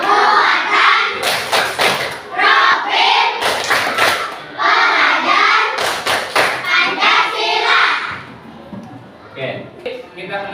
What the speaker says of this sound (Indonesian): Sekarang kita tepuk P5.